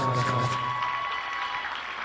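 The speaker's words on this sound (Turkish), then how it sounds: "alkışlar." Applause from a theatre audience at a comic miniature performance, a steady dense patter of clapping filling the room, with a short low tone early on and no talk.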